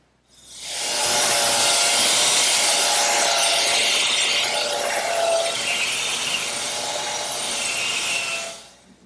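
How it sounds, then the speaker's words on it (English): A hand saw cuts off glued wooden dowels flush with a trestle tabletop in a woodworking shop. The rasping strokes sound steady and close, run continuously for about eight seconds, and carry no speech. "I'll just saw these off with my hand saw"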